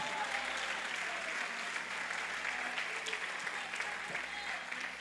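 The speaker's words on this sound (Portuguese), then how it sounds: "Pode aplaudir o Senhor." Congregation applauding in a church, a continuous, even spread of clapping hands that sounds faint and distant, steady for the whole stretch without a clear break.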